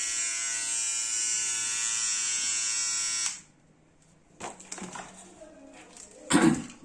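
A Philips Series 3000 beard trimmer runs with a steady, close electric buzz for about three seconds, then switches off, followed by light handling clicks and rustles.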